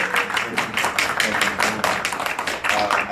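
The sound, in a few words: audience applause for debate candidates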